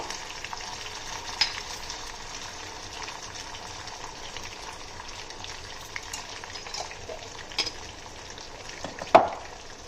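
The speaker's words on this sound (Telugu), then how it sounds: "జీడిపప్పు, పల్లీలు ఇది శుభ్రంగా వేయించుకోవాలండి." Cashews and peanuts with turmeric, green and dried chillies frying in oil in a pan, a steady soft sizzle with occasional stirring clinks and one sharp knock near the end.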